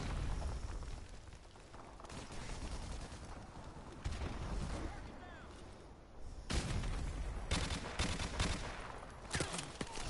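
Game gunfire in Modern Warfare Remastered: bursts of automatic shots, with dense loud volleys in the second half and quieter background action before that.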